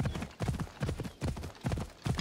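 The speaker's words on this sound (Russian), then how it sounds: "На лошади мы быстро преодолеем" Horse hooves clip-clop in a quick, even galloping rhythm while riding in the video game Assassin's Creed Odyssey, steady and fairly close throughout.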